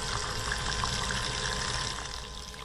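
A small bilge pump run off a car battery drains water with a steady, continuous gushing hiss, close and fairly faint, easing slightly toward the end.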